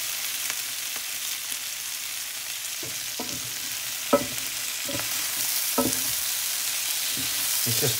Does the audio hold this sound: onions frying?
yes